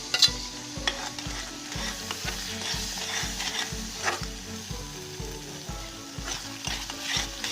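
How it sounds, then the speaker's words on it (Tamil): A thick onion-tomato paste fries in a pan, a continuous soft sizzle with regular rhythmic stirring strokes about twice a second, close and steady with no voices. "வெங்காய தக்காளி விழுது நல்லா கொஞ்சம் பச்சை வாடை போகிறவளை வர நல்லா வதக்கிடணும்"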